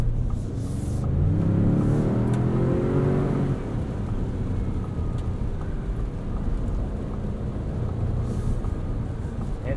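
A 2022 Ford Expedition Platinum with the 3.5 EcoBoost accelerating in sport mode up an entrance ramp, heard from inside the cabin as a rising engine drone that climbs through the gears before settling into a steady road roar.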